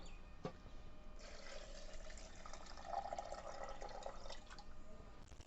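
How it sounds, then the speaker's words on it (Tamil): Water poured over five kinds of grain to soak them for sprouting, a faint continuous splashing and trickling pour with a soft knock near the start, no talk. "இப்போ வந்து நம்ம தண்ணி ஊற்றி இதை வந்து ஊற வைக்க போகிறோம்"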